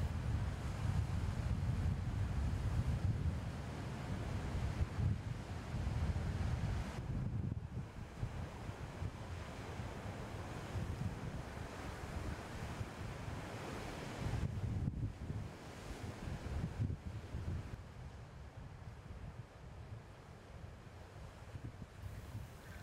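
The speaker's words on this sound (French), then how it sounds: "Ces vagues qui lèchent les rochers avec une puissance phénoménale font la joie" Waves crash and surge against the rocks of Quiberon's wild coast, a loud, continuous roar of surf with heavy wind buffeting the microphone and no voices.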